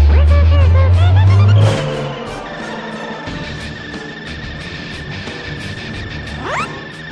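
Electric car sound effect, a loud low surge that cuts off after about two seconds, followed by a softer steady whir with a brief rising whoosh near the end.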